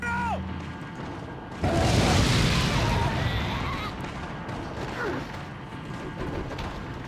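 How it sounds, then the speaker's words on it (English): Grenade explosion in the video game Resident Evil 4, a sudden heavy boom that bursts out loud and close, then a long rumbling decay with faint debris and game noise trailing after. "Alright, I'll use my grenade."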